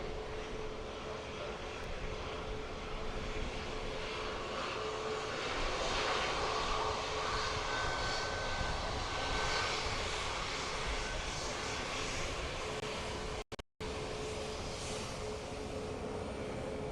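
Boeing 737 MAX airliner engines roar steadily at Dublin Airport, a broad, distant jet rumble with a faint whining tone that swells slightly midway and runs on without talking.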